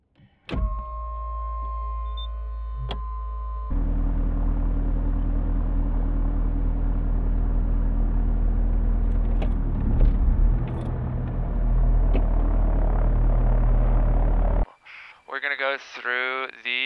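Diamond DA42-VI twin engines starting: a starter whine and tonal hum, then a steady loud droning rumble settling in for about ten seconds before a voice speaks near the end.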